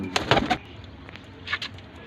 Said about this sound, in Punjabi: ਟੈਡੀ ਕਬੂਤਰ ਦੇਖ ਲਓ ਜੀ